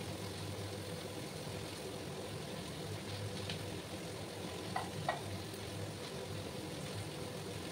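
Cabbage fries in a pan with fish head, a faint steady sizzle with a couple of soft clinks from stirring, low in level and without talk.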